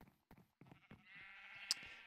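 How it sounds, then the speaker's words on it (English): A sheep bleats in the Minecraft video game. It is a faint, short, wavering cry that rises out of quiet background clicks. "And he's got some sheep, which we actually don't even have."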